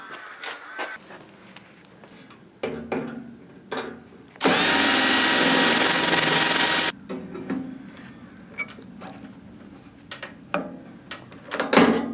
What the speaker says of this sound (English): so I'm going to have to drill out a little bit.